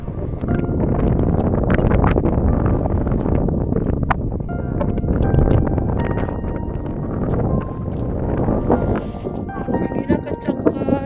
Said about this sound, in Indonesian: Anginnya kencang kali we.